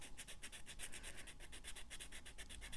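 A metal burnisher rubs side to side over a gouge in a jewellery setting, giving a soft, rapid, evenly repeating scrape of quick strokes, close and quiet, with no voices.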